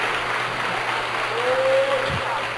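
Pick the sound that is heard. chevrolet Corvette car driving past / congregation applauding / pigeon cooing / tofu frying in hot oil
congregation applauding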